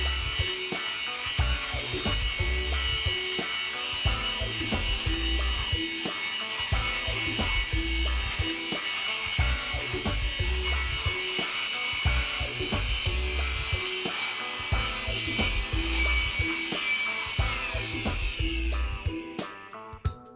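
Air blower cleaning dust out of the magnet gap of a loudspeaker, a continuous whine and hiss running throughout, broken by rapid regular clicks, that tails off near the end.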